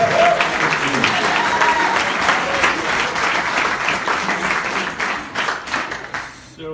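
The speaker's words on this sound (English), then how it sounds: "Everyone, a nice, warm round of" A room full of people at a case competition awards event claps steadily for several seconds, dense and loud, tapering off at the end.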